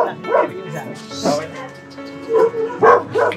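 A dog yips and whimpers in short bursts, fairly close, with people talking over and around it.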